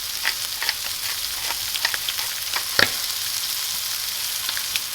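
A burger patty seasoned with salt and pepper fries in a pan, giving a steady hissing sizzle with occasional sharper pops and crackles, close and prominent, no talking.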